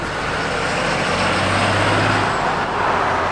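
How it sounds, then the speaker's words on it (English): A 6-speed Cummins diesel truck pulling away, a loud, steady broadband engine and road rumble with a low droning note rising briefly mid-way, close by and continuous with no talking. "Here she goes, she being the truck."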